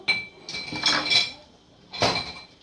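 Metal utensils clink and clatter against a hard surface in two brief bursts, close by, with a quiet pause between.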